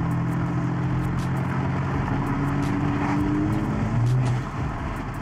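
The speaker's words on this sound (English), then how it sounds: "as we're driving the car here" A 2014-2016 Cadillac CTS driving along, its steady engine and road drone continuous and fairly loud from start to finish, with a brief rise near the end.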